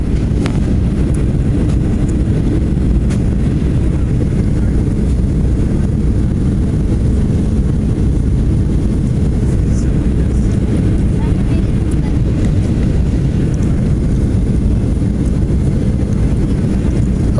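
An American Airlines Boeing 737-800 descends to land at Chicago, heard from the cabin as a loud, steady roar of engine and airflow that holds level throughout.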